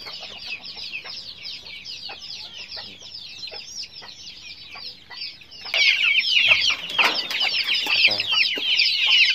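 Pure village-breed backyard poultry, thirsty and calling for water, cluck and squawk loudly in a dense, overlapping chorus that swells noticeably louder partway through, with no talking.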